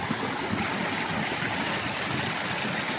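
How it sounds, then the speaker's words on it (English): A waterfall rushes at close range on an Olympic outing, a dense, broad, steady roar of churning water that never lets up and has no voices over it. "A little further up on the waterfall and you can actually kind of get into the top of it."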